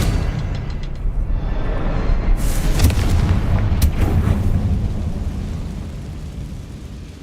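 A Confringo fire spell bursts in Hogwarts Legacy, with a loud rumbling blast and crackling spread that rises sharply around the middle, then decays into a sustained low roar.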